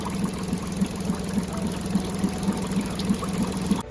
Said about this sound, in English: So here's a 30 horsepower Suzuki. It's the first startup. It's running amazing.